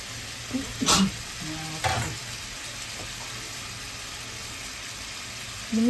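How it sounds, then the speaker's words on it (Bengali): Pieces of pointed gourd dropped into hot oil in a pan, giving a few stirring clatters and bursts of sizzle early on, then a steady low frying hiss that swells again at the end. "আমি এবার এই পটলগুলোকে আস্তে আস্তে এর মধ্যে ছেড়ে দিচ্ছি।"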